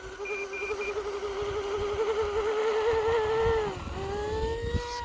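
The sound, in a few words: E-flite V-22 Osprey RC model aircraft motors at takeoff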